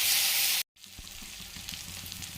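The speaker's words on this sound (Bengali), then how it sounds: "পেঁয়াজের সাথে অল্প নুন দিয়ে দিয়েছি, দিয়ে ভালো করে পেঁয়াজটা ভেজে নিচ্ছি।" Chopped onion with a little salt frying in hot oil, a steady close sizzle that cuts out briefly and then resumes with faint stirring.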